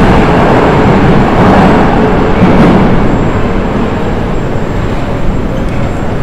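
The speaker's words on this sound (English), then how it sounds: "So this is our metro." A Moscow metro train roars loudly and steadily through an underground station, a dense continuous rumble with no clear talking over it.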